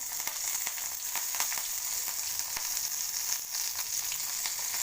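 Fresh curry leaves and green chillies sizzle in hot oil for poha, a steady bright crackle with scattered sharp pops close by, no voices.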